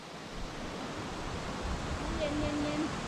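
A waterfall in the cold season roars as a constant broadband rush of falling water, steady and fairly loud throughout, with a faint tonal whistle or call briefly audible over it near the end.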